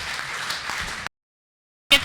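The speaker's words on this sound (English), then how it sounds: "Give time for clapping at the end." Applause at a Social Liberal Forum conference, a dense patter of clapping from the audience for about a second. It breaks off into silence, then a brief burst of clapping returns at the end.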